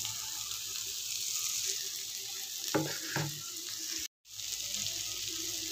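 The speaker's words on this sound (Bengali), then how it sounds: "দিয়ে দিলাম কোকোনাট মিল্কটা" Coconut milk is poured into a pan of frying shrimp and rice, over a steady sizzle with a couple of brief liquid splashes and a momentary dropout.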